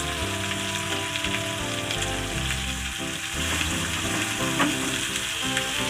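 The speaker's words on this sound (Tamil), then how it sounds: "நல்லா பூண்டு வதங்கட்டும்." About twenty crushed garlic cloves fry in hot oil for a Tamil drumstick pickle, giving a steady, close, crackling sizzle with occasional stirring scrapes throughout.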